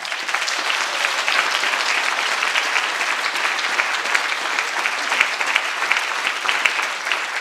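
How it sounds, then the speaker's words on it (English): Sustained, loud audience applause fills a hall at a literary award ceremony, a dense steady wash of many hands clapping without pause for the whole stretch. "round of applause to everyone"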